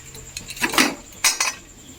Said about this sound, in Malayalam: കുക്കർ ഇങ്ങനെ അടച്ചാൽ മതി